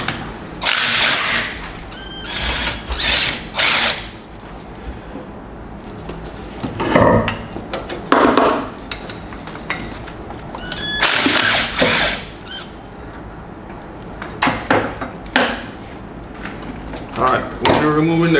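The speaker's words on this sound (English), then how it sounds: "Alright, we're removing the compressor, put this away." Hand tools and metal parts clank and rattle while the AC compressor is taken off a Nissan Skyline, with bursts of knocking and scraping at close range, alternating with quieter pauses.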